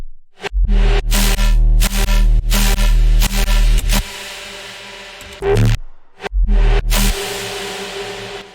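A heavy bass synth from Serum plays in an electronic music project. It gives loud, sustained, deep tones with sharp cuts and pauses in a rhythmic pattern, clean and without any voice.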